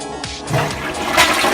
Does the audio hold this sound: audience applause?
no